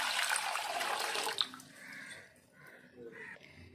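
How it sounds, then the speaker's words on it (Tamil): Water pours steadily into a cooking pot at first with a splashing rush, then stops, leaving quieter clinks and faint background sounds. "ஒரு பாத்திரம் எடுத்துருக்கிறேன். இதில் ஒரு சொம்பு தண்ணி ஊற்றிக்கலாம்."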